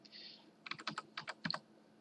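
Quiet clicks of typing on a computer keyboard while entering an email address into a software installer, a brief burst of keystrokes after a soft pause, close and isolated.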